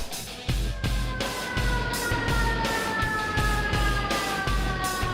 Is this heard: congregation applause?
no